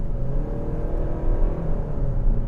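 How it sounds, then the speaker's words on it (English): A 2025 Kia K5 EX engine revs at about half throttle, giving a steady, low, rumbling growl heard close with no talking. "It makes the engine sound a little bit cooler in largest change."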